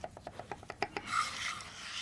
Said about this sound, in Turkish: Sonra çilekleri ince ince doğrayın.